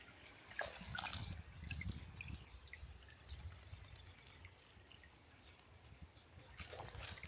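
Water trickles and drips quietly in an old countryside irrigation channel that feeds local farms in Calabria, Italy, a faint, steady flow with a few louder splashes.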